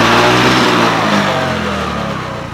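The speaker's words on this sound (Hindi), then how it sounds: "फुल ले दो फुल थ्रॉटल दो" Engine of a modified Honda Aviator scooter revving hard at full throttle, a loud, steady close-up drone that holds high and then eases slightly toward the end, with no talking.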